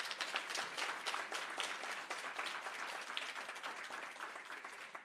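Applause from a crowd of about 350 people at a Gjesdal pride celebration of love and inclusion, a dense, steady wash of clapping that holds for the whole stretch without voices.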